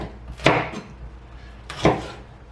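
A knife slices through the tip of a hot green pepper on a cutting board, making two short, crisp chopping thuds spaced about a second and a half apart, close and moderately loud with no talk.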